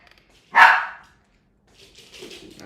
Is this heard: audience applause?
no